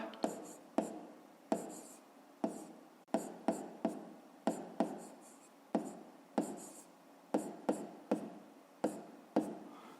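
A pen scratches out an answer in a school notebook during a fifth-grade maths exercise, making quiet, close, rhythmic strokes and taps in a steady run of short bursts.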